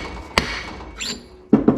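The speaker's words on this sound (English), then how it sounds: "You can hear the change of tone in the hammer." A sharp metallic hammer tap rings out as a main seal is seated on a Harley Twin Cam 88 engine, followed by a brief faint scrape and then two more firm hammer taps close by.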